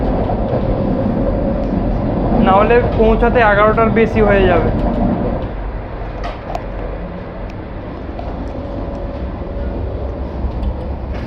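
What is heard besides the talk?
Vande Bharat Express train running after leaving station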